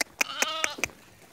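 Rams on a farm bleat just before feeding, a few short, close, loud bleats in quick succession with no talking.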